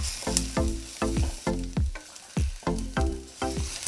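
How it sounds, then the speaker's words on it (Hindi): Hot oil sizzles with cumin seeds in short, evenly spaced bursts, about two per second, close by with no talking. "थोड़ा सा जीरा डाल देंगे। तो जीरा भी साथ साथ पक जाएगा।"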